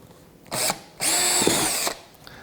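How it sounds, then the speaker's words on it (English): Close, loud power drill: a short burst, a pause, then a longer sustained run boring into wood before stopping. "I'm just going to drill straight in here"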